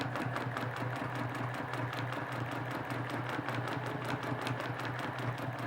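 A sewing machine runs steadily while outlining in white thread, a fast, even mechanical rattle holding close and continuous throughout with no pauses.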